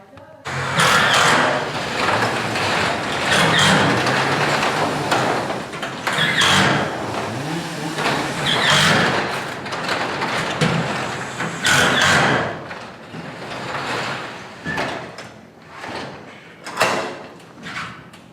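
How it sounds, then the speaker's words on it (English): Garage door of a house opening and closing, several loud rolling, rattling passes with thuds between them, close by, with occasional talk. "Garage door works great"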